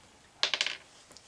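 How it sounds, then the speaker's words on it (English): A die rolled during a children's Bible quiz game, a quick clattering burst of small hard bounces that settles within half a second, close and isolated with quiet around it. "Can you roll your first dice, Hezekiah,"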